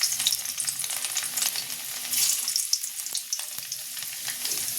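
Garlic sizzling and crackling in hot oil at the start of a poppy-seed dish, a continuous close fry with occasional stirring scrapes and no voices.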